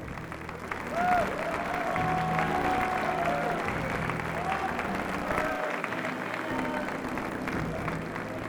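At the 1994 Miss Continental pageant, an audience keeps up continuous applause for the fifth runner-up, a moderately loud, even wash of clapping with crowd murmur and faint music beneath it.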